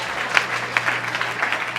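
A church congregation claps for the Lord during a sermon, dense, lively applause from a crowd at close range with sharper individual claps standing out.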